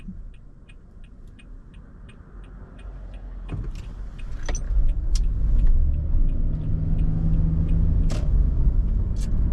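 A car passes on a 30 mph road, overtaking from behind at speed; a steady low road rumble swells toward the end, with faint rhythmic ticking like an indicator throughout.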